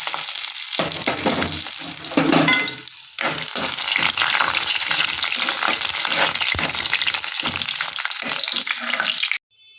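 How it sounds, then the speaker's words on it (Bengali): Sun-dried lentil dumplings (bori) frying in hot oil in a wok for an aloo-tomato-brinjal-bean mustard curry, a loud, steady sizzle with clattering stirring bursts throughout, cutting off abruptly near the end. "কড়াইতে তেল দিয়ে দিয়েছি, তেলটা গরম হয়ে গেছে। এবার বড়িগুলি"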